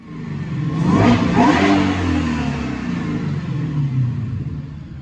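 A Whipple Gen 5 supercharged 2017 Ford GT350 revs hard on a dyno, its engine note climbing loudly over the first couple of seconds, then holding a steady, rumbling drone close to the microphone with no talking.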